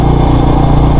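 Motorcycle engine running steadily and loud, close by, a continuous throbbing drone throughout with no breaks.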